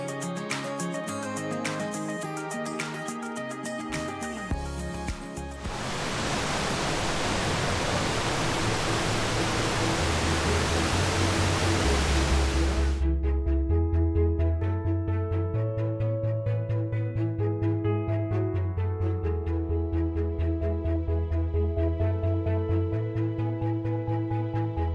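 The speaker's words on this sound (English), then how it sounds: "It's an easy stroll to the waterfall, which is about 200 metres away." A waterfall along the Ring of Kerry in Ireland gives a loud, steady rushing roar that fills the middle of the stretch, with music before and after it.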